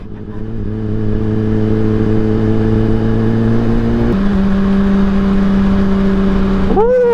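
A Honda CBR600RR sport bike engine drones loudly and steadily while riding, with a gear change partway through and a rising rev near the end.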